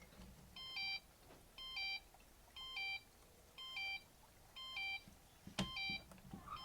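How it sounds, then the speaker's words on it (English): An Accenta G4 alarm system keypad in a garage beeping in a steady repeating pattern of short double tones, six bursts at regular intervals, with a brief clunk near the end. "it will continue beeping if like a zone is lit up"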